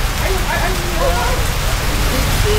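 Steady rain hisses and patters on a surface at a trail ride, a dense wash of sound with faint voices murmuring underneath.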